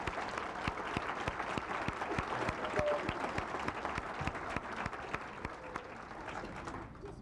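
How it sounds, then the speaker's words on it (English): A banquet hall audience at a student awards dinner claps steadily for honored youth, a full, even round of applause with crisp individual claps that thins out at the very end. "Can we go ahead and give them a preliminary round of applause?"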